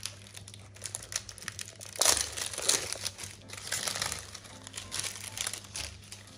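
Soft parchment paper crinkling and rustling, close by, with a few louder crunchy bursts and steady low hum underneath, no talking.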